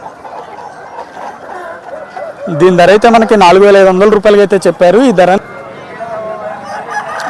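A rooster over a year old, about 21-22 inches tall and 2.5-3 kg, crows loudly and close at a cockerel market, with clucking before and after while someone talks over it.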